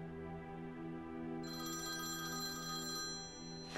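A telephone rings in a domestic TV drama scene, its electronic bell tone repeating steadily with a brighter layer joining partway through, clear and close with no one speaking.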